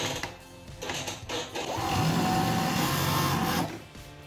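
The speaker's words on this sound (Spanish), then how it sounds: "De esa manera cortamos la pretina y cosemos aquí." A sewing machine runs in one steady stretch of about two seconds, stitching the waistband of women's shorts, preceded by soft fabric handling.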